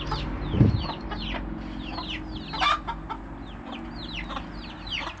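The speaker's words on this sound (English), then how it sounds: "you're going to hear the story about the rooster." A rooster crows among clucking chickens outdoors, with a loud crow near the start and another midway, over a busy background of chirping birds.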